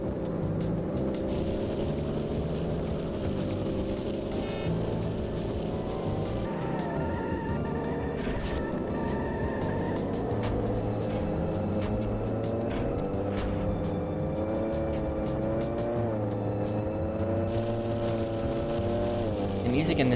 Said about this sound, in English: If only you could hear it over the motorcycle.